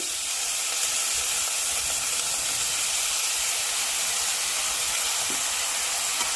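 Washed hyacinth bean pods hit hot masala in a pan, producing a dense, steady sizzle and steamy hiss that stays loud and even, close with no voices.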